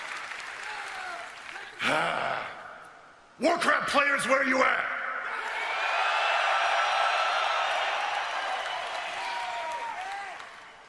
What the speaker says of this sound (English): Why don't you give yourselves another round of applause